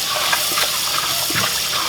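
Tap water runs loudly and steadily over rice being rinsed in a wash, a close continuous gushing splash with small bursts of sloshing and no speech.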